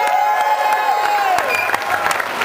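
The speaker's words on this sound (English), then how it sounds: "And maybe if you guys cheer loud enough" A loud studio audience applauds and cheers steadily, dense clapping with whoops, heard close and continuous.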